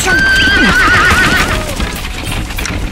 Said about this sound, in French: Un attelage de 2 chevaux emballés fonça sur moi.